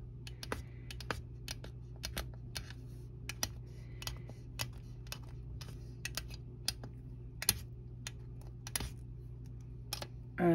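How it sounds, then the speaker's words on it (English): A blade chops Cernit polymer clay into small chips, making a quick run of sharp, irregular taps and clicks against a low, steady background hum. "I'm just going to take that larger chunk of Cernit, and I'm just going to chop it up"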